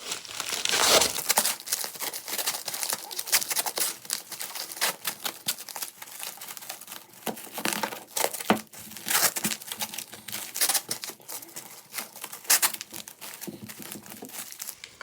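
Paper crumpled and crinkled around a glass jar of herring for padding, loud close rustling in busy continuous bursts, no speech.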